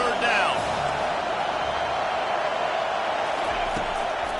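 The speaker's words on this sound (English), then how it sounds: "Decibels rising as the crowd gets behind this defense on 3rd down." A stadium crowd at a college football game during a third-down defensive stand, producing a loud, sustained roar of cheering that fills the space evenly.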